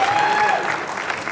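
Audience applause at a film pre-release event, a dense sustained clapping crowd with a brief tonal whistle or voice in the first half, steady and loud throughout.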